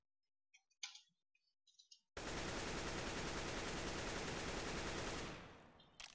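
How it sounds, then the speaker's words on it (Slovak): Sustained automatic gunfire in a PC shooter with the trigger bound to a keyboard key, a few faint clicks first, then a loud continuous spray of rapid shots for about three seconds that tails off. "Teraz som strieľal cez klavesnicu."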